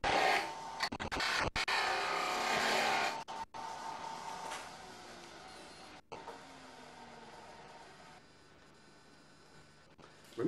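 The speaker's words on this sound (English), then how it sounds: "we'll turn the lathe on, make a few more cuts" A wood lathe turning a wobble chuck project gives loud scraping cuts in bursts over the first few seconds, then settles into a quieter whirring hum with brief interruptions.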